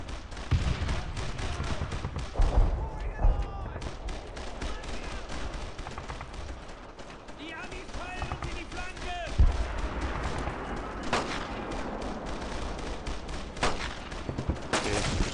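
Gunfire in the WWII shooter Brothers in Arms: Road to Hill 30, rifle shots and automatic bursts cracking repeatedly over a battle din, with soldiers' voices shouting between volleys.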